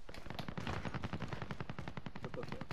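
Rapid automatic gunfire in Call of Duty Warzone, a dense, continuous stream of shots sounding close and loud throughout.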